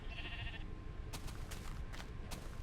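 Blocky sheep in the game Minecraft give a short bleat, followed by several sharp, brief in-game clicks and thuds, all quiet with no talking.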